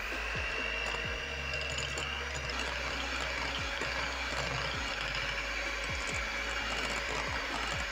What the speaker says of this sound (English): So I'm going to fluff up my margarine a little bit.